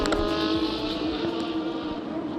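A McLaren GT race car runs at Sepang circuit, a loud, steady engine howl holding close throughout the short moment with a slight pass-by character.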